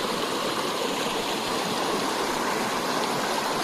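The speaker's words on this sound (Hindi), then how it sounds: "साफ सुथरा पानी है, बहता हुआ पानी।" Clear water flows steadily through a jungle stream pool swollen about a foot deep, a continuous close, even rushing wash with no voices.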